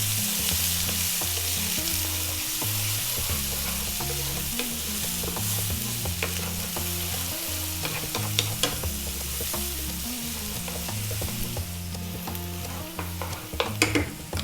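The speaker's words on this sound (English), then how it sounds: "We're going to go in with our garlic and our ginger. We're going to go in with our onion. And on a high heat, we're going to go for around 3 minutes." Garlic, ginger and onion frying over high heat for a fish in black bean sauce, a steady loud sizzle with repeated scraping stirs and utensil clacks throughout, no voices.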